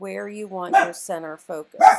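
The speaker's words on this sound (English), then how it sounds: "I'm sorry about my dog barking." A dog barking indoors, several sharp yapping barks mixed with whimpery tones over about two seconds, heard under and between a person talking.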